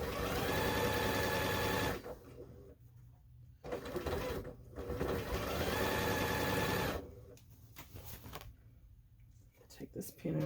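A sewing machine stitches a fabric table runner in close, loud runs of rapid mechanical chatter. The runs start and stop several times, with short quiet pauses between them and a voice talking during the pauses.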